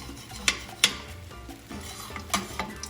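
Spoon stirring thick refried beans in a pan, with a few sharp scraping clicks and soft shuffling between them, close and fairly quiet.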